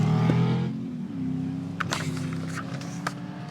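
Racing car engine from a video game, revving loudly and steadily for a few seconds, with a couple of brief clicks and knocks over the sustained engine drone.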